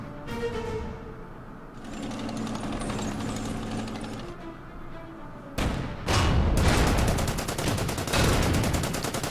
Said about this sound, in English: My 50mm anti-tank gun does its job.